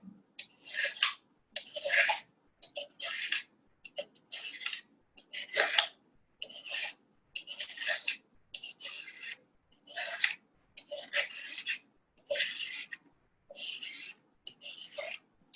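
A peeler strips a carrot into shavings with quick, soft scraping strokes in a steady rhythm of about a dozen short bursts separated by brief pauses, close up and fairly quiet.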